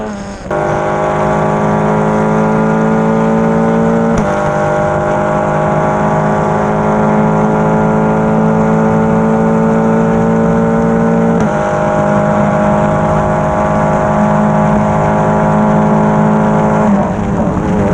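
Formula 4 race cars on the Road America circuit: a loud, continuous high-pitched engine whine held close throughout, with brief pitch drops as gears change, and no talk.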